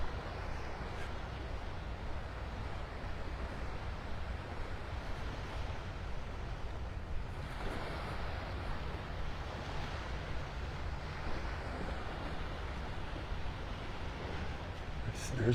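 Waves on the beach at Delnor-Wiggins in North Naples, Florida, a continuous low wash of surf and wind rumble across the clip.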